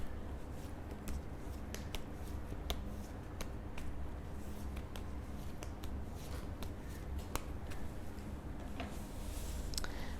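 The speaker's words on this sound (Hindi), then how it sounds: "वर्गों के लिए मैं कार्ड शफल करती हूँ।" Tarot cards shuffle continuously in soft, quick riffling ticks and light slaps, close and fairly quiet, with no voice over them.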